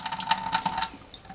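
Water from celery juice pulp is squeezed out of a wet nut milk bag over a sink, giving a brief run of uneven splashing and dribbling that fades within about a second.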